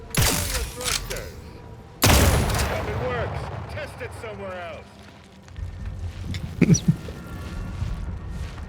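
Gunfire in the video game The Outer Worlds 2 on PC: two loud, sharp bursts of shooting, then scattered shots and clatter as the fight goes on, with a voice talking over it.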